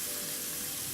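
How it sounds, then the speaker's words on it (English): Red onion sautéing in a pan gives off a steady, soft sizzle, an even hiss with no pauses and no voices. "the same or a little less of the red onion. So I'm just going to saute"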